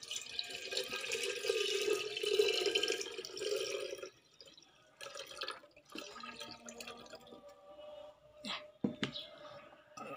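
Kombucha made with bilimbi fruit is poured into a container, giving a few seconds of steady close liquid splashing, followed by quieter drips, clinks and handling sounds.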